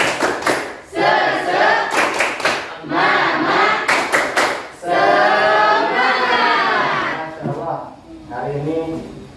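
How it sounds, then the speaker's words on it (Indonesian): Indonesian classroom of students doing a rhythmic spirit clap, with bursts of sharp group claps alternating with loud shouted chanting voices, all close and energetic. "mari kita melakukan tepuk semangat terlebih dahulu ya"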